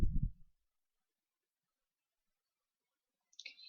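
A computer mouse clicks once, crisp and brief, near the end of a long silent stretch that follows a short low thump at the start.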